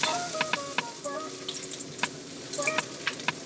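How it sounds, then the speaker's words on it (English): Pork belly sisig sizzling steadily in a pan as garlic and ginger go in and get stirred, a close, continuous frying hiss broken by scattered crackles and pops. "that's frying, we're going to add our garlic and ginger and continue stirring this."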